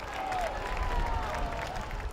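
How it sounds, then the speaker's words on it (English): Crowd applause welcoming Pope Francis at Turin cathedral, a soft, distant wash of clapping with a low rumble, heard briefly and fairly faint. "He was welcomed to the cathedral with strong applause"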